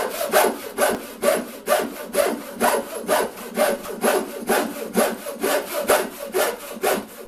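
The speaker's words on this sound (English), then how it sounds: "I'm rubbing wax from a tea light over the saw" Tea light wax rubbed back and forth over the blade of an old hand saw in a garage workshop, a steady rhythmic scraping with about two strokes per second, close and fairly quiet.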